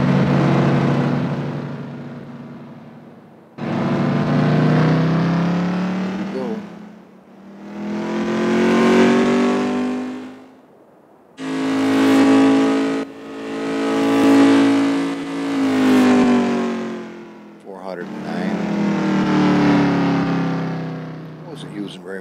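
A turbocharged TVR Cerbera Speed 12 engine revs loudly in about six separate bursts, each rising and falling and parted by short quiet gaps.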